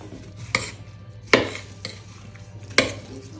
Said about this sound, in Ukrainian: Перемішую, будемо дивитися, як там.